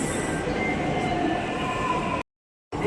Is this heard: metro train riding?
yes